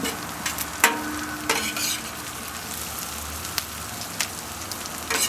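Onions for a Philly cheesesteak sizzle in a pan with a dense, steady crackling hiss, nearby and fairly loud, broken by a few sharp clicks and scrapes of a utensil. No voices are heard.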